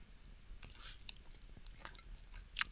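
Crunchy bites of homemade pasta carbonara topped with shredded cheese, chewed at a winter campsite in -14°C cold. Close, irregular mouth crunches and soft squishes over a quiet outdoor background, with a sharper bite near the end.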